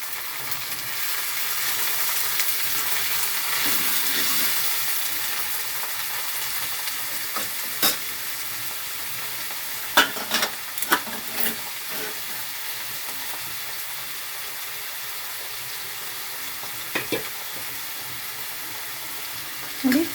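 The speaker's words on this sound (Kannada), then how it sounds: "ಟೊಮೊಟೊನ ಈ ರೀತಿ ಎಣ್ಣೆಯಲ್ಲೇ ಫ್ರೈ ಮಾಡ್ಕೊಬೇಕು" Chopped tomatoes and onions fry in oil in a pan for moong dal sambar, giving a steady close sizzle throughout with occasional clinks of stirring.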